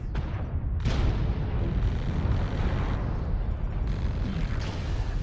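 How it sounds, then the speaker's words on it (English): Ammo explosion in the mech combat game MechWarrior Online: a dense, sustained roaring blast with a sharp burst at the start and another just under a second in, rumbling loudly and steadily throughout with no talk. "Ammo explosion."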